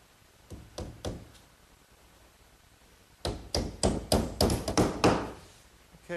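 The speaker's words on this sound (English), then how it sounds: "I'll fasten it with these little 5-penny box nails" Small 5-penny box nails are hammered into the back panel of a wooden bookcase: a few sharp taps, a pause, then a quicker, louder run of about eight close blows.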